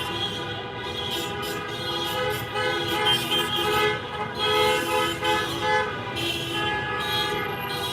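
Car horns honk on a downtown Washington DC street during a protest over Tigray, Ethiopia, with long overlapping blares sounding continuously and loudly amid dense traffic noise.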